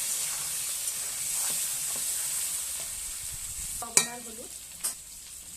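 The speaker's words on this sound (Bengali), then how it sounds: "আলুটাও খুব ভালোভাবে লাল লাল করে ভেজে নেব।" Potatoes frying in oil until reddish for an egg curry, a constant close sizzle with a few spatula scrapes and clinks, and a brief spoken word near the end.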